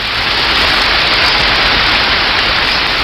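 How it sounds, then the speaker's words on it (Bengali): Steady rain falls in an even, dense hiss, loud and unbroken for a few seconds with no pauses or voices. "সমানভাবে বৃষ্টি ঝরছে আর ঝরছেই"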